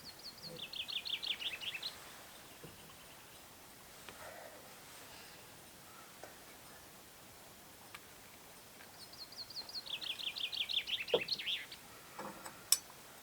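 Birds sing near a lake campsite on Etelä-Konnevesi, two clear trilling song phrases rising over quiet outdoor ambience with faint ticks between.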